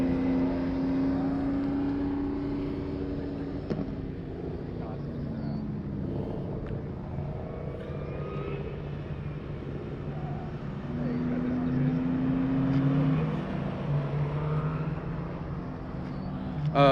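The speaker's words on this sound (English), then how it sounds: "So here comes Todd in the GT2 RS." A Porsche GT2 RS sports car runs past on a track at a Memphis session, its engine a steady loud rumble that swells and recedes, with tonal rises around the middle and end, under continuous commentary and background noise.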